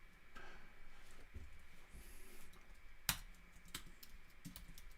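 Soft, rapid clicking of a computer keyboard comes through as code is typed, faint and continuous with one sharper key strike, over a low background hum.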